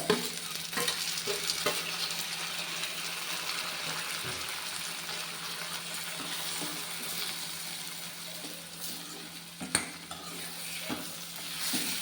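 Bitter gourd fry cooks with tomato in a pan, a constant moderate sizzle under repeated spatula stirs and clacks against the metal, with a sharper knock near the end.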